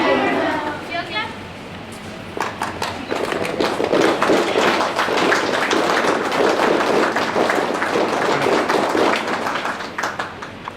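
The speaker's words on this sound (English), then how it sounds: "Cheer clap." An audience at a school investiture ceremony claps loudly, a dense burst of many hands that builds after a short pause and keeps going steadily, with some voices mixed in.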